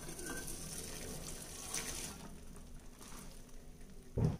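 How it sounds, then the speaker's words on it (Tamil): Water poured off boiled millet noodles through a strainer in a home kitchen, a faint steady splashing hiss that ends in a brief louder gush. "இப்போ நம்ம தண்ணியை வடிகட்டிடலாம்."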